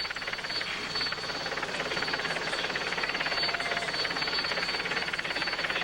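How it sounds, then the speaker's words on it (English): Helicopter flying over a Tour de France stage near Digne-les-Bains in 2005, a steady broadband rotor and engine drone that stays loud and continuous throughout, with no talk. "So we're looking for my helicopter now."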